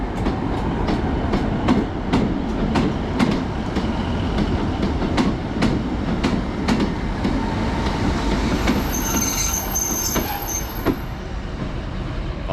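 A modern train passes a level crossing nearby with a loud, steady rumble and a rhythmic clickety-clack of wheels over rail joints. A thin high wheel squeal rises near the end.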